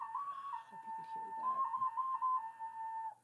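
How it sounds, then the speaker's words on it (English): A small whistle flute played in a steady, sustained tone with slight wavering, close and clear, with a voice briefly audible underneath. "If not, it's a whistle. It's a flute."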